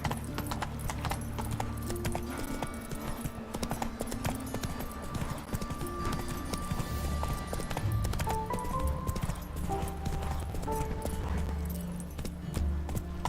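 Horse hooves galloping in The Witcher 3 game, a steady fast clip-clop rhythm running throughout amid game music and ambience, with an occasional faint whinny.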